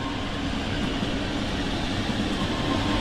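A train in the video game Train Sim World 2, on a snowy and icy route, gives off a steady, loud, unbroken rolling rumble throughout, with no voices.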